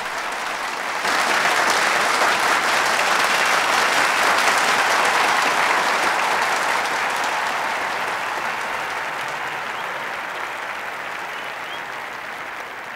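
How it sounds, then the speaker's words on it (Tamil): Loud, sustained audience applause in a large hall, a dense roar of clapping that swells after the first second and holds steady, slowly easing toward the end without fading out. "இரண்டு நிமிட நேரம் காது சிவிடுபடும்படியான கரகோஷம்."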